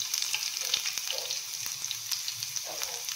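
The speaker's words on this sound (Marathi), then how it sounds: "आणि आता आपल्याला टाकायचंय मिरची, मग कढीपत्ता" Green chillies and curry leaves frying in hot oil give off a steady hiss with sharp, scattered crackles and pops. It is close and fairly quiet, and no one speaks.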